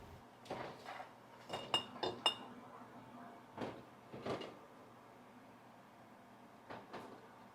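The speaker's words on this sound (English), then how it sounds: "The jars are still being boiled and are still making a lot of noises" Glass jars rattle in a boiling canning pot, quiet scattered clinks and knocks in irregular bursts over a low steady hum.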